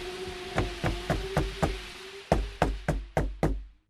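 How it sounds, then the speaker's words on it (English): Knuckles rap on a wooden door on a stormy night, two crisp bursts of sharp evenly spaced knocks, five and then five more after a brief pause, loud and close with a faint hum beneath. "Suddenly, somebody knocks at the door."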